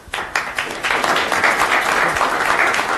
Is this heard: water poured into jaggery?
no